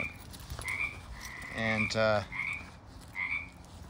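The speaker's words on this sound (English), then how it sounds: "A noisy ass frog." A noisy frog croaks close by in two loud, rapid, rattling bursts, with a brief word of speech in the background.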